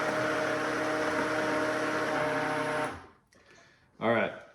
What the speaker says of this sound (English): that's blending perfectly.